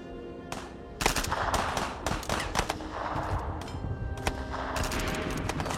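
Artillery and mortar fire opening up on German positions in a 1945 Alpine mountain battle, a volley of sharp, overlapping blasts and rapid bursts, some close and cracking, others duller, in irregular clusters over a rumbling background.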